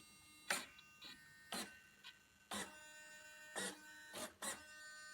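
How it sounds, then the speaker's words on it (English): Aileron servos on an RC discus-launch glider index in calibration mode, giving six sharp, brief whirring bursts at irregular intervals, close and fairly quiet, with near silence between. "if I pull it down, the servos are indexing"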